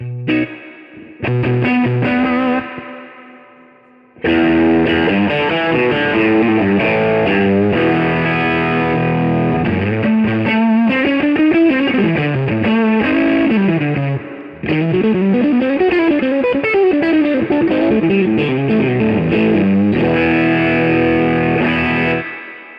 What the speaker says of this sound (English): Yeah, that was the tube screamer, the Vemoram Ibanez tube screamer.